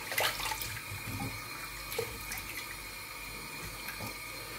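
Tap water runs steadily into a bathroom sink while a face is rinsed after shaving, with a few splashes and hand movements over the continuous flow, close and moderately loud with no talking.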